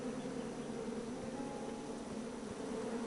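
Bees buzz around a beehive in King's Quest, a steady droning hum that holds evenly throughout at a soft, close level with no other sounds.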